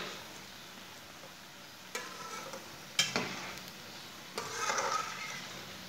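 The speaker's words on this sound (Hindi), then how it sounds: "अब ऐसे ही इसे थोड़ा सा उलटाते हुए पका लेंगे" Masoor dal pakoras frying in hot oil as they are turned, a soft steady sizzle punctuated by a few sharp stirring and scraping bursts, with no talk.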